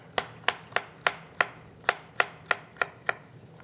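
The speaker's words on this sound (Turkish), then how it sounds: "aynı şekilde, aynı ölçülerde kesmemiz gerekiyor" A chef's knife chops food on a cutting board in a kitchen with about ten crisp, close knocks at an even, brisk pace, each cut sharp and clear, with no voices.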